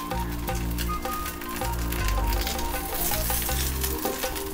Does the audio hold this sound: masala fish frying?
yes